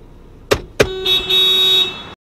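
Car horn honking at a car blocking the way: two short sharp blips followed by a sustained, loud, close blast of about a second, then silence.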